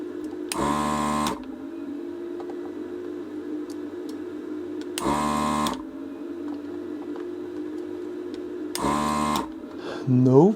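An electric desoldering pump working on a Commodore Plus/4 motherboard gives three loud buzzing bursts of about a second each, spaced several seconds apart, over a steady hum, close by.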